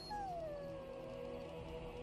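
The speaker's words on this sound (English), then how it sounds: "Alistair, leave the poor dog alone." Mabari war dog in the Dragon Age Origins video game giving a drawn-out, falling whine that tapers into a long, steady whimper over a quiet game background.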